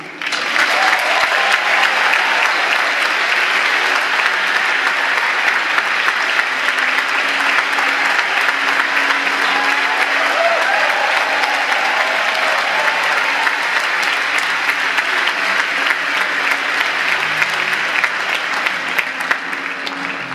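Sustained audience applause at the UNDP Equator Prize ceremony, loud and dense, with many hands clapping continuously for about twenty seconds and faint crowd voices mixed in.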